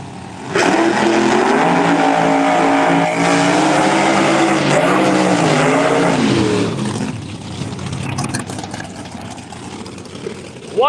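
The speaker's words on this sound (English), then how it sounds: "the head knocker, the supercharged Chevy 2 Nova over there in the far lane." A supercharged Chevy II Nova drag race car engine roars loudly at the start line, a sustained heavy drone that drops away after several seconds, leaving fainter engine rumble.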